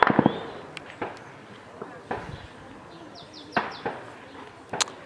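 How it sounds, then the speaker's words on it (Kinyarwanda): Gunfire from fighting near the city of Goma cracks out in several scattered sharp shots, some louder and closer, others fainter, over a noisy outdoor background with voices. "ayose mwumva na amasasu"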